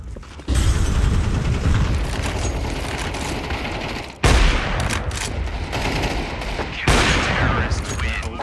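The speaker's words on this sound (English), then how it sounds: "Deploying flashbang" A flashbang goes off amid loud, sustained bursts of automatic gunfire in a Counter-Strike match, with dense, continuous shooting and a sharp break before the firing resumes.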